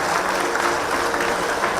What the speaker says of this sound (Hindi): और हम सब शामिल हो जोरदार तालियों के साथ